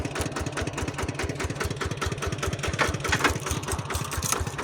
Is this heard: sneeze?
no